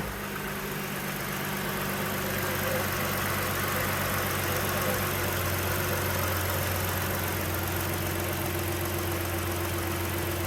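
A car engine idles steadily just after being started, a smooth, quiet, continuous low hum with no voices over it.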